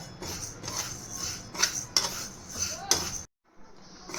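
Moong dal dry-roasting in a pan is stirred continuously, producing a scraping, rasping rustle of spoon against metal with several sharper scrapes, then a sudden cut to near silence.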